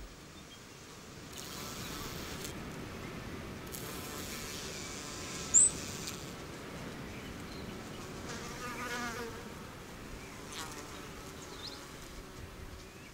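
Insects buzz steadily around flowers, a dense, continuous drone of bees, wasps and flies that holds at an even level throughout, close and unbroken, with no voices.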